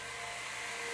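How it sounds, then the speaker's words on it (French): A Dyson cordless vacuum cleaner runs with a steady, loud, high-pitched whine and airy rush, close and unbroken throughout. "les aspirateurs sans fil Dyson nettoient ici,"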